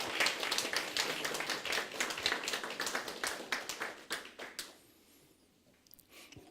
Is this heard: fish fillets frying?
no